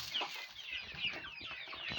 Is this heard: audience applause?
no